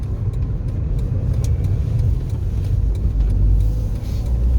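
A red low-mileage Ford Sport KA drives along with a steady, loud mid-range engine note and road rumble filling the cabin, the drone rising slightly toward the end, with no talking.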